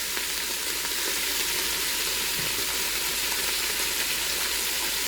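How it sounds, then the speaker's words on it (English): Stew meat searing over medium-high heat in a Ninja Foodi for Italian beef, giving a steady, close, broadband sizzle and crackle that holds evenly throughout with no talking. "I've got that on a medium-high heat because I just want to sear that meat."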